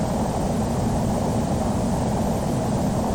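Constant, steady roar of a Boeing 737's engines climbing after takeoff from Toronto in Microsoft Flight Simulator X, a loud, even broadband drone with no talking.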